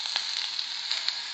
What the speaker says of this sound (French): je vais sauter l'oignon et les légumes.